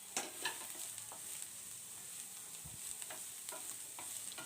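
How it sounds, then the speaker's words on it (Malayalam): Chopped onion sautéing in a pan for paneer curry, a steady soft sizzle and crackle with a few light stirring clicks, fairly close and without talk. "ഓനിയൻ ഇട്ടേച്ച് ഓനിയനാണെങ്കിൽ ലൈറ്റായിട്ട് ഒരു കളർ ചേഞ്ചായി വരുന്നത് വരെ നമുക്കതൊന്ന് വഴറ്റി കൊടുക്കാം"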